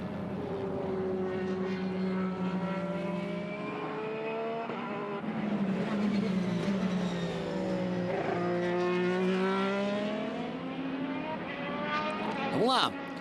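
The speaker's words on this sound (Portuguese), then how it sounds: "Acelerando mais uma vez com Palou para abrir sua volta rápida." An IndyCar race car accelerates hard on a qualifying lap at Portland, its engine note rising and falling in long sweeping pitch climbs, steady and loud throughout with commentary voices over it.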